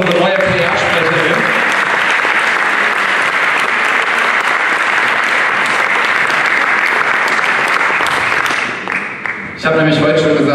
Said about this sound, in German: Meinen großen Applaus für unsere neue PR-Sprecherin.